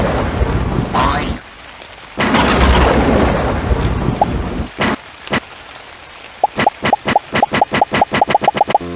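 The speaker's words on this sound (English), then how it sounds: "I'm gonna summon a rain cloud." Rain and thunder from a summoned rain cloud in a cartoon-style scene: a rolling thunder rumble and heavy rain hiss give way to a long series of regular sharp dripping plops.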